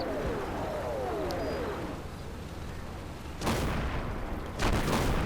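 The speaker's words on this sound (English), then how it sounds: "Sad thing about that artillery, I think it's falling a little too early." Two heavy artillery impacts in the Combat Mission wargame, Operation Bluecoat, land about a second apart after a stretch of quieter battlefield rumble. Each one is a loud, broad blast.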